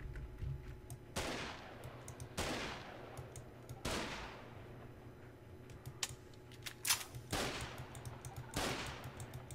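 Gunfire from a weapon in the sci-fi survival game Osiris: New Dawn: five loud, sharp shots at uneven intervals, each with a short ringing tail, over a low steady game hum.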